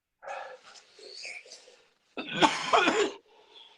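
A man coughs, starting with a few rough throaty hacks and ending in one harsh burst near the close, nearby and fairly clear.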